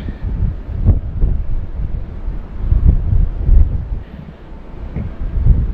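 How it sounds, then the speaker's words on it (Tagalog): Strong wind buffets the microphone in a continuous low roar with repeated heavier gusts and no voices. "Kasi doon po sa kabila galing yung hangin."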